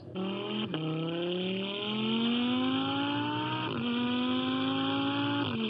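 A 5.2-liter naturally aspirated V10 car engine, shared with the Lamborghini Gallardo, pulls hard through the gears: rising howling notes climb steadily, broken by two quick upshifts, loud and close with no talking.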